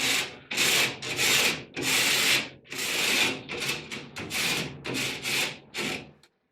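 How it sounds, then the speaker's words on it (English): A hand rasp is drawn up and down the cut edge of a DensShield tile backer board in about a dozen separate gritty scraping strokes, close and loud, with short pauses between them and no talk. "To clean up the cut edge of the board, I lightly ran my rasp up and down it."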